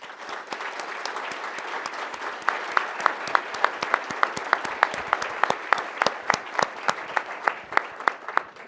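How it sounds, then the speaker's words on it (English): Applause at a chamber of commerce State of the City event with the mayor, a sustained crowd clapping throughout, with a few crisp, regular claps growing louder near the front as it goes on. "a big round of applause for all of these folks"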